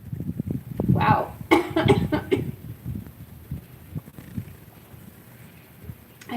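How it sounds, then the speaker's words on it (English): A person coughs hard in a brief, loud burst of several harsh coughs, then clears the throat and breathes heavily as the sound trails off into quieter rasping. "So I don't normally cough."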